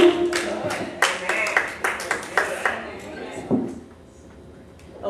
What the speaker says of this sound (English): Let's give her a little hand clap.